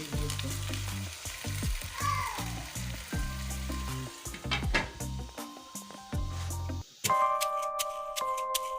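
A handi curry cooks in a pot on the stove, giving a steady sizzle and frying hiss with a few stirring clinks, and a brighter metallic clatter comes in near the end.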